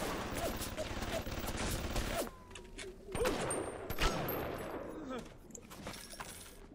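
Automated turret gunfire in BioShock Remastered, a rapid burst of shots layered over a dense, noisy game scene with several sharp impacts and a brief pause partway through.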